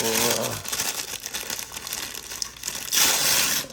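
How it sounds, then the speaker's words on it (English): Crinkly wax paper rustles and crumples in close, uneven bursts as a GI Joe Classified Cobra Snow Serpent action figure is pulled free, with a louder crackle near the end. "Let's quickly get this out of the wax paper."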